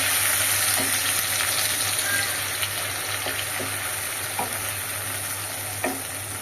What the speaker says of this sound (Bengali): ফ্লেমটাকে হাই মিডিয়াম করে একটু কষিয়ে নেব